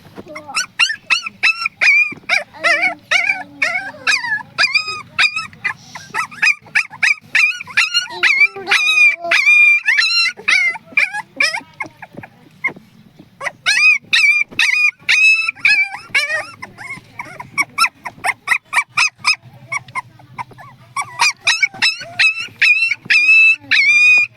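Newborn puppies and their mother dog whimper and howl in rapid, high-pitched cries, loud and near, in a village, continuing with only brief pauses.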